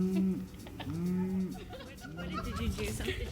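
Cows on a farm in the small agricultural town of Cullman, Alabama, let out several low, drawn-out moos close by, overlapping one another, with people talking around them.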